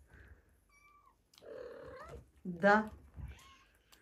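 Mother cat and her kittens meowing around a meal of meat, with short scattered cries and one louder drawn-out meow among quiet spells. A person speaks briefly.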